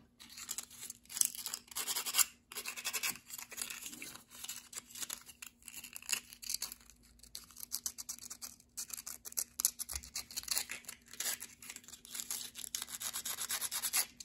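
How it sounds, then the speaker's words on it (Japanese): A coarse file rasps against a small wooden bean-shaped netsuke carving in quick, close scraping strokes that come in irregular bursts with brief pauses. "粗めのヤスリは、ほんのちょっとした凹凸を取るのに、まあ、便利ですね"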